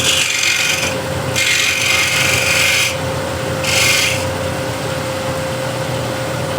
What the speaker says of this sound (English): Smaller spindle gouge just to get it slightly undercut.